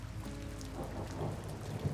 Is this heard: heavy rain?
yes